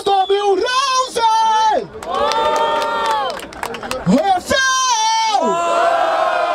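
A crowd at a Brazilian freestyle rap battle semifinal in Barueri, São Paulo, roaring, whooping and shouting in loud, overlapping bursts with rising and falling yells close around.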